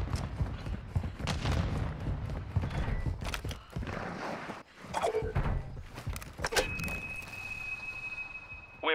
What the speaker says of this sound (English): plant a charge on the target and level it